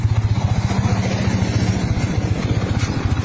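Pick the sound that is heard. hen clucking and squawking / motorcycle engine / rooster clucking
motorcycle engine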